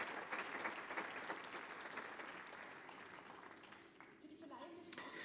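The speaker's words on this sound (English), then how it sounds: "Please stand up and receive your applause for these terrific projects." An audience at the 2023 Simon Wiesenthal Prize award ceremony applauds the honored projects. The clapping is faint and distant, fades gradually, and gives way to faint voices near the end.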